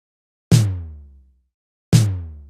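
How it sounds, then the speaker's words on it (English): Two layered kick and tom drum sample hits, played from a MIDI clip, land about one and a half seconds apart, each a punchy, fat thump with a bright attack that rings out and decays before the next. "It's giving us quite a bit fatter of a drum sound"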